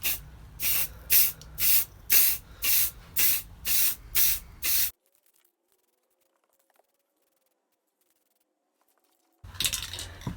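Cheap clear lacquer sprayed from an aerosol can onto a hydro-dipped Spektrum DX8 RC transmitter: about eight short, loud hissing bursts in steady rhythm, then quiet, and a final spray burst near the end.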